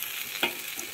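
Onions and tomatoes fry in a pan with a faint, steady sizzle and a single soft stir or scrape partway through, brief and close.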